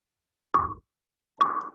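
Metronome set to 70 beats per minute, two crisp, isolated clicks roughly a second apart against silence.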